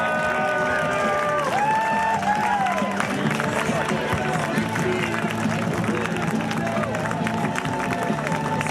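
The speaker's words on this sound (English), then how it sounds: "let's give them a big cheer" A dockside crowd cheers and claps for the sailing team Sun Hung Kai Scallywag at a sailors' parade and dock-out in Newport, a dense steady roar of voices and applause with some talk mixed in.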